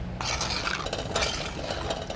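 Chicken stirred with a utensil in a cooking pan in a Jaffna home kitchen, close scraping and clinking strokes against the pan over a faint sizzle, no voices.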